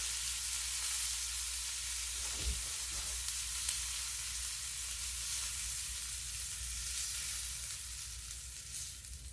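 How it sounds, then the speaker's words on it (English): Pork frying in a hot pan gives a steady, bright sizzle that carries on without a break, with a soft low rumble beneath and one brief thump partway through. "That's this pork cooked a nice golden brown."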